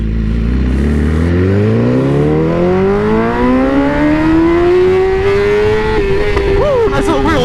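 A BMW S1000RR sport bike accelerating hard from a stop on a foggy, chilly morning, its engine pitch climbing steadily through the gears with a brief shift dip near the end, loud and close with wind rush.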